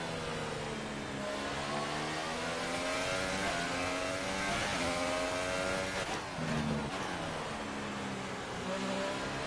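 Formula 1 car engine from the racing game F1 2018, revving hard through rising and falling gear shifts, loud and continuous with layered engine tones from nearby cars during an overtake.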